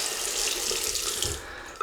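Warm water runs from a tap into a sink to rinse before shaving with a single-edge razor, a steady close splashing hiss that eases slightly near the end.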